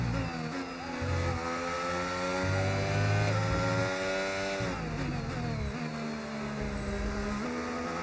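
A Formula 1 race car engine in a racing video game screams steadily at high revs, close and loud, with pitch climbing and dropping through quick gear shifts over eight seconds.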